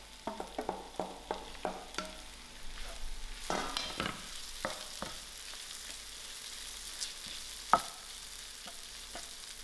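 Ground peas frying in oil crackle and sizzle close up, with a quick series of stirring taps and scrapes at first, then a steadier sizzle broken by occasional clicks.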